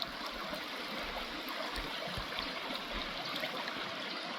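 Fast floodwater rushes steadily past a small boat being pushed by the current, a continuous close, broadband wash with slight gurgles and no talking.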